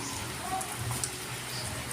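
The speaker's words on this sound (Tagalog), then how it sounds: "Maghapon na naman ng ulan, oh." Steady rain hisses softly and evenly during a storm, with a few faint patters standing out from the continuous wash of sound.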